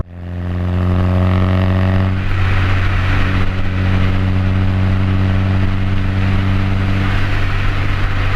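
A Mk2 VW Golf GTI 8v fitted with a Milltek exhaust drones steadily and loudly close by, with a deep harmonic engine tone. Around two seconds in, the engine revs up into a rougher, fuller note and holds there without speech.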